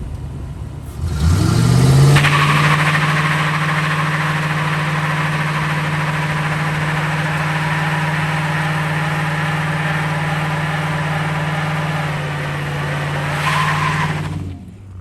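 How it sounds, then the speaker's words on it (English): A 2004 Ford Panther platform car revs hard into a burnout, tires squealing loudly as the engine holds a steady high drone for over ten seconds before the revs drop and the squeal fades, close and alone. "Okay, so maybe it do burnout."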